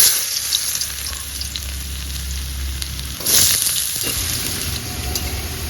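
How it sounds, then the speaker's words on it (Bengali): Potato pieces frying in oil in a kadai make a loud, continuous sizzle and hiss that surges briefly partway through, close by and with no voices. "আলুগুলো তেলে ছেড়ে দেব"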